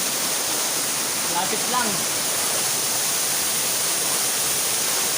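Panindingan Falls, a waterfall, roars as a steady, loud broadband rush throughout, with a person briefly speaking over the constant water noise.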